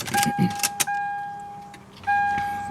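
A car being switched back on, with a few close clicks and rustles, then steady electronic dashboard chime tones that drop out briefly and start again.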